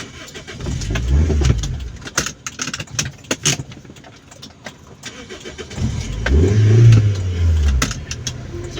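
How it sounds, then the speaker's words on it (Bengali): Cars rush past nearby, coming fast down a ramp of the Dhaka Elevated Expressway. Two louder engine swells rise and fade amid steady traffic noise and scattered road clatter. "সবগুলো গাড়ি খুব দ্রুত গতিতে নামছে"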